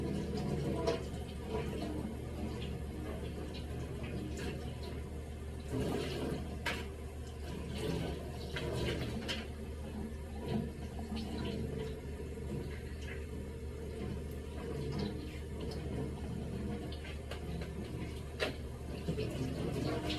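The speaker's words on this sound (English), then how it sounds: "Start by just rinsing through her hair." Water runs steadily while a girl's hair is rinsed under a faucet handle, a continuous splashing wash with low rumble lasting throughout, no talk.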